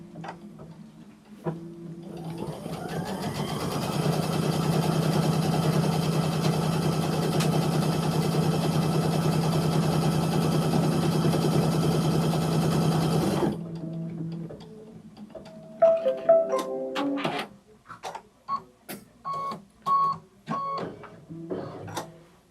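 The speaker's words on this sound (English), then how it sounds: "And then we're going to sew the seam" A sewing machine stitches a seam for a quilting sew-along project, running in one steady, continuous whir for about eleven seconds before stopping, followed by scattered clicks and handling noises.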